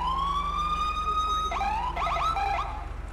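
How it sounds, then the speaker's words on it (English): A police car siren in GTA 5 with the LSPDFR mod wails steadily, then switches to a rapid yelping pattern, loud and close. "And then the siren."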